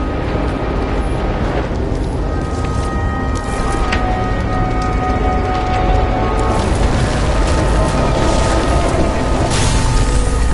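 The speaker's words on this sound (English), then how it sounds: "Cable acted like a fuse. That's what caused the explosion." Rumbling blast from a transformer explosion in a video game, heavy low boom with roaring fire-like noise and faint tonal hum continuing steadily and loudly throughout.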